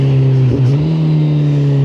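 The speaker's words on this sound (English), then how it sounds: "We're revving" A car engine holds a steady, loud, close rev while the car slows for a corner during rev matching, with a brief dip and blip in pitch before it settles again.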